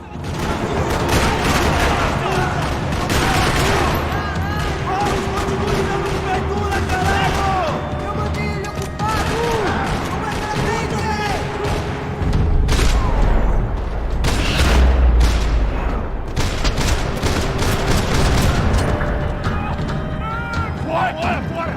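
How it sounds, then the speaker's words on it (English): Gunfire rattles through a parking lot in the video game Max Payne 3, with dense bursts and booms layered under a steady game soundscape and speech, growing heavier with deep low thuds partway through. "Another parking lot rattling with gunfire."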